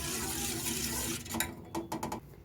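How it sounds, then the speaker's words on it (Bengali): A spoon stirs beaten curd into warm milk in a pot, giving scraping and clinking strokes against the metal that grow into sharp, distinct knocks toward the end, close and fairly quiet. "এবারে আমি দইটাকে দিয়ে ভালো করে নেড়ে চেড়ে মিশিয়ে নেব।"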